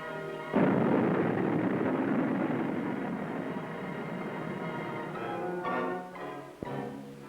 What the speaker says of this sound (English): At a Nike Hercules site, crews participate in a practice firing.